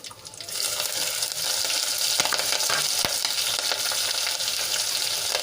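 Dried red chilies, a cinnamon piece, cloves and curry leaves sizzle in hot oil for a tempering, a loud continuous crackling fry with a few sharp pops and stirring clicks.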